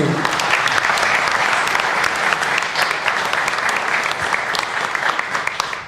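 An audience at a women's sports team's press conference breaks into loud, continuous applause, many hands clapping together in an unbroken wave that stays strong for several seconds.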